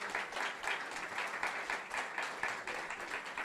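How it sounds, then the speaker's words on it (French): A church congregation claps together in steady, dense applause that carries on evenly throughout, with no voices over it. "On peut applaudir pour ça."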